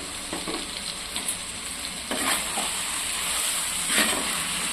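Whole spices such as cloves and cinnamon sizzle in hot oil in a clay pot for chicken biryani, a steady close crackle broken by a few scraping stirs, with no talking.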